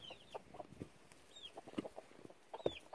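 Chickens clucking and squawking as they scuffle near chicks, short sharp calls scattered in bursts with a few louder squawks, close by over a faint outdoor background.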